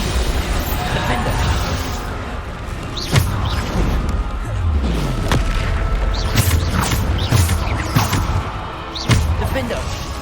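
Bombarda spell blasts in the Hogwarts Legacy combat, several sharp booming bursts spaced a couple of seconds apart amid clattering effects, with a voice talking over the action throughout.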